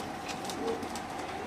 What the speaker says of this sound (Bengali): এখানে আছে আরেক জোড়া মাক্সি রেসার কবুতর